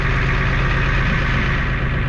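A 1989 Ford F350 truck engine idles loud and close, a steady low rumble with an even rough texture throughout and no voices.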